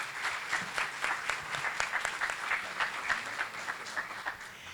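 Audience applause for a guest speaker at a teacher training event, a moderate crowd clapping steadily and fairly softly for several seconds without talk.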